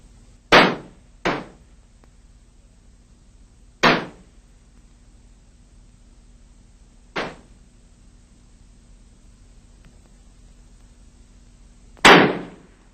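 Five sharp, loud shots from 50m men's small-bore free rifles at the 1978 World Shooting Championship in Seoul, spaced irregularly with long quiet gaps between them over a low hum.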